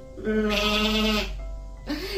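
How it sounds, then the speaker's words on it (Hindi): A cartoon goat bleats in a long, wavering, nasal cry followed by a shorter second bleat, loud and close against a quiet background. "इसी जंगल में एक मन्नो नाम की बकरी रहती थी"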